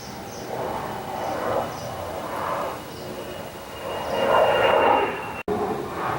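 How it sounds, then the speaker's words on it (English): A propeller airplane passes overhead at a distance, a low rumbling drone that swells and fades in slow waves, growing loudest near the end. "Okay, I thought it was thunder. It's just an airplane."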